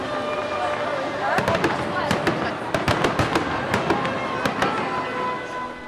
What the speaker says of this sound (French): La parade s'est finie en apothéose avec l'enllumage et les fameux feux d'artifice